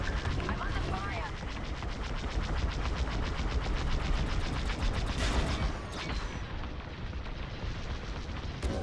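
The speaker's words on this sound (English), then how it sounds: "I'm under fire." Blaster cannons fire in rapid repeating bursts during a Star Wars Squadrons starfighter dogfight, loud and continuous against a dense rumble of engines and explosions, with a voice speaking over the action.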